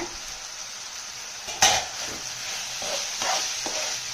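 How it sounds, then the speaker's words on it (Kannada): Lid lifted off a pot of cooking ridge gourd, a single clear metallic clank followed by soft sizzling and a few faint scrapes of utensils. "ಈಗ ಮುಚ್ಚಳ ತೆಗೆದು ನೋಡೋಣ ಹೀರೆಕಾಯಿ ಬೆಂದಿದೆಯಾ ಅಂತ"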